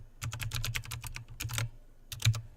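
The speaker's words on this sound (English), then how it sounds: "Type in your IBM ID." Quick bursts of keystrokes on a computer keyboard while entering an IBM ID during a cloud workshop, close and clear, with short pauses between runs of taps.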